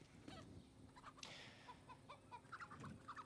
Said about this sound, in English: What is up with these chickens? I was going to say, they're very loud, aren't they?